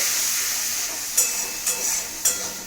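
Water poured into hot fried masala for brinjal (eggplant) curry gives a steady hiss of steam and sizzle, with a few short bursts of louder spitting as it hits the pan.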